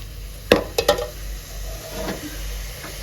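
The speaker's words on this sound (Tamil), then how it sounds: "கீரையை போட்டு வதக்கணுங்க." Fenugreek greens in a pan, with a few sharp clinks of a utensil against the pan early on and then softer scraping and stirring over a low background hum.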